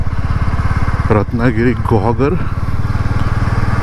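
A motorcycle engine hums steadily while riding on the Mumbai–Goa highway toward Guhagar in early morning, a continuous low drone under someone speaking briefly.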